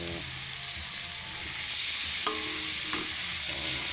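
Bagoong shrimp paste sautéing with mango in a pan, a steady close sizzle and frying hiss throughout with a few sharp stirring clinks and scrapes near the end, no talk.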